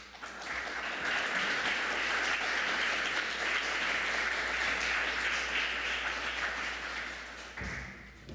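Steady audience applause welcoming a bishop's lecture at a theological symposium, a dense, even wash of clapping lasting around seven seconds before tapering off.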